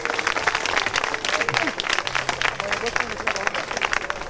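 Students at a high school awareness event in Anfoin, Togo, applaud visiting guests: dense, steady clapping from a crowd lasting several seconds, with a voice speaking over it.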